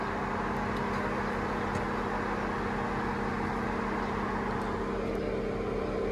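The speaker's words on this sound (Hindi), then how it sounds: "फ़ैन भी चल रहा है गाड़ी का।" A Ford car's engine cooling fan runs with a steady whirring drone and constant low hum, continuous and unchanging throughout, heard fairly close with no talking.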